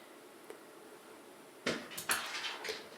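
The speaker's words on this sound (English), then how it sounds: "Sorry for that noise. That's the damn cat." A cat knocks things about in a quiet room, making a few sharp clattering knocks, like dishes or small objects hitting each other and the surface. They come in a short irregular burst after near silence, moderately close.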